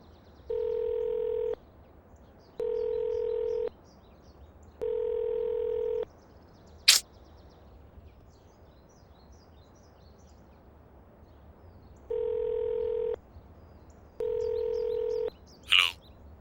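A telephone ringback tone sounds during an outgoing call, repeating steady buzzing pulses of about a second each with gaps, plus two short chirps near the end and no speech.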